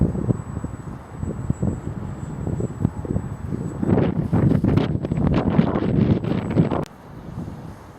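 Strong winter wind buffets the microphone on an open field during an RC ParkZone F4U Corsair model flight, with loud, ragged rumbling gusts that build and surge, then ease near the end.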